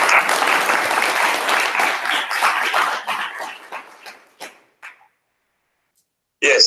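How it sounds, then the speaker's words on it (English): A big round of applause from an audience at a moot court conservation awards event, dense clapping that thins into scattered claps and stops, then a burst of clapping returns at the end. "Can we give them, please, a big round of applause?"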